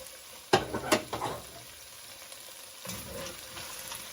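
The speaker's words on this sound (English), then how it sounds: "Give that a little bit of a stir. Let it pick up some of those bits on the bottom." Sliced onion hits browned cube-steak beef in a pot and starts a soft frying hiss, with a few scraping stir strokes near the start and a gentler sizzle later.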